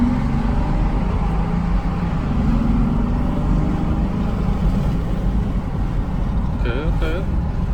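A 2019 Honda Pilot engine fitted with an AEM cold-air intake runs at part throttle with the windows down, giving a steady, even rumble beneath someone talking throughout.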